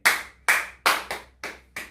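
Loud, evenly spaced claps ring out one at a time, six sharp strikes in two seconds, each with a short echo, during a hypnosis-style stage demonstration.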